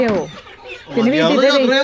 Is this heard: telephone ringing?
no